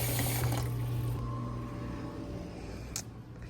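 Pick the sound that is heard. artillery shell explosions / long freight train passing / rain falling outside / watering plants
watering plants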